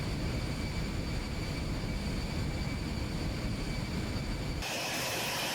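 Loud, steady jet engine roar of an Aerobask Eclipse 550 NG climbing after takeoff in X-Plane 11, a continuous broadband drone with a faint whine, cut off abruptly near the end.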